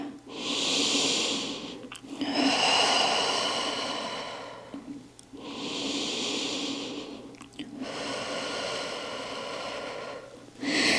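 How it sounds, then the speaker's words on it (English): Slow cleansing breaths during a Pilates session, each drawn in through the nose and pushed out through the mouth, close and loud, with several long breathy cycles and brief pauses between them and no talking. "You can take a round of cleansing breath with an inhale through the nose, exhale out the mouth."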